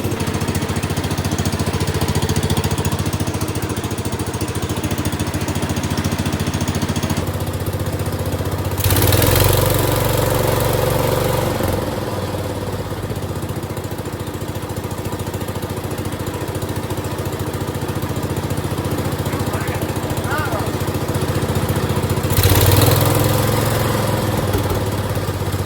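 A small engine on an International Cub Cadet garden tractor idles steadily, then revs up sharply twice, around the middle and near the end, before settling back to a rough idle.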